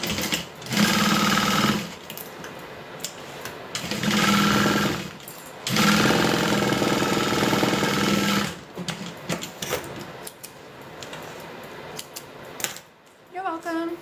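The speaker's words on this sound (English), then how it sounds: "So now we're going to go ahead and sew that down." A sewing machine stitches fabric down in three loud bursts of rapid needle chatter, each lasting a couple of seconds, followed by quieter handling noise and some talking.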